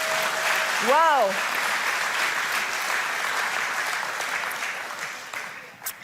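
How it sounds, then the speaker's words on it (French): A church congregation breaks into sustained applause that fills the room and fades gradually, while a voice gives a brief exclamation near the start. "Est-ce qu'on peut applaudir le Seigneur, s'il vous plaît?"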